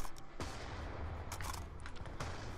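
Rapid gunfire from Black Ops 2 gameplay, dense bursts of automatic shots layered over a steady background din, loud and continuous with sharper cracks near the middle and end.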